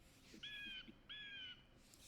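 Two harsh, nasal jay calls from a blue jay played back as a recording, each a drawn-out squawk about a third of a second long, clear and alone over a faint background hum.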